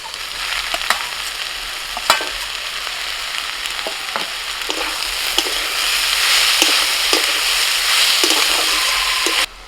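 Fried eggplant sizzles with radish greens in a pan, a steady bright crackle of frying with occasional sharp clicks of stirring, loud and close, no voices.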